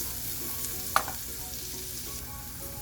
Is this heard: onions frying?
yes